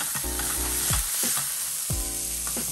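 Half a pound of ground beef sizzles and fries loudly in an overheated pan, a steady crackle broken by repeated scraping stirs, close and with no talk.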